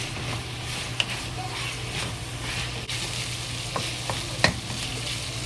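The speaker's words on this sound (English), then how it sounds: "And now we turn the fire to the high fire to fry. Fry the ginger." Ginger and scallion stir-fry over high heat in a wok, a steady sizzle with occasional scrapes and clicks of the spatula, no talking.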